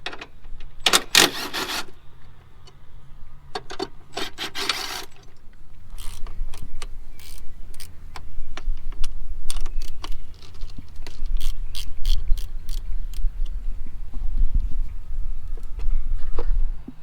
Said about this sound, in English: I'm going to start with getting this battery out of the way.